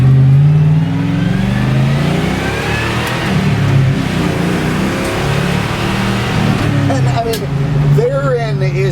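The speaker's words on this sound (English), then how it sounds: "you're in this decrepit looking old Ford truck and you can haul ass and it's absolutely fine" An old, decrepit-looking 1955 Ford F100 pickup truck accelerates hard on the road, its engine loud and close as it climbs through the revs, with a voice briefly heard over the drone.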